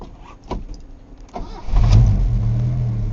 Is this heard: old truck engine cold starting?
yes